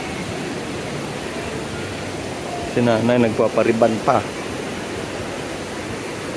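Heavy rain drumming steadily on the tent roof of SM Baguio, a constant dense hiss throughout, with someone briefly speaking over it in the middle.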